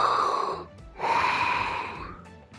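A video game character breathes through an oxygen canister, two long, close, hissing wheezy breaths, the second louder and longer, with a brief pause between.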